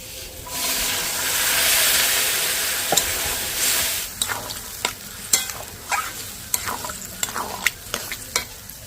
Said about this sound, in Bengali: আলুটা দিয়ে কিছুক্ষণ নেড়ে নেব